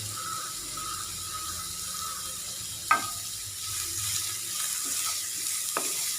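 Sliced onion sautéing in a pan for a bread and potato snack, a steady soft sizzle with a few sharp spatula scrapes and clicks, fairly close and moderately quiet, no talking.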